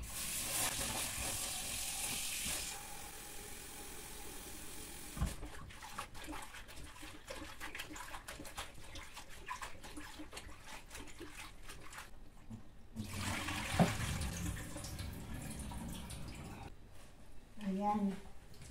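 Vegetables are washed under running tap water in a home kitchen while cooking sinigang, with continuous splashing and rushing water that pauses and restarts, heard close by.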